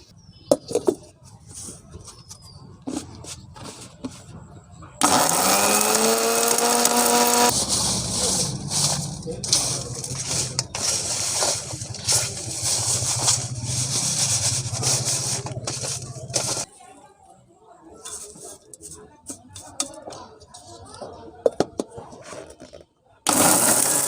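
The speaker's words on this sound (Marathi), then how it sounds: "हा भुसा मी एकत्र आता कलेक्ट करून एकत्र जमा करून आपल्या मिक्सरमध्ये लावून घेणार" A household mixer grinder churns coconut husk into cocopeat, starting with a rising whine and then roaring loudly and steadily for about twelve seconds before cutting off, with talk before and after.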